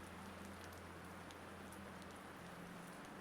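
Soft, steady rain falls on glass as a continuous faint hiss with occasional small drops, alone and without voices.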